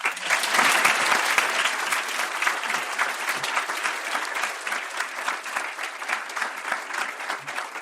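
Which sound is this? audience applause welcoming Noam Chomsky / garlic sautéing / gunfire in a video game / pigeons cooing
audience applause welcoming Noam Chomsky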